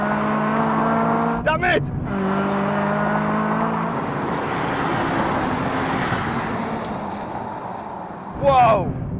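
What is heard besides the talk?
Honda Civic Type R FK8 and FK2 drag racing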